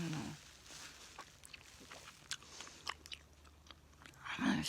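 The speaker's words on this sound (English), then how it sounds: "There's bubblegum I'm chewing tonight, by the way." Rainbow bubblegum chewed close to the microphone in a quiet room, giving soft, irregular wet clicks and smacks that come alone in scattered bursts, with a louder rustle near the end.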